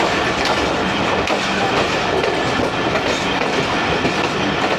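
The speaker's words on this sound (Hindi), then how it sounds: "HBU20 के साथ 45 अप पाकिस्तान एक्सप्रेस।" A Pakistan Express passenger train hauled by an HBU20 locomotive running on the main line, a loud continuous rumble with clickety-clack wheel beats, close by and alone without voices.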